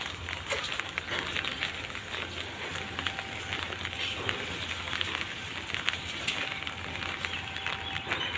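Steady rain falls outdoors, giving an even, continuous hiss of drops with no voices.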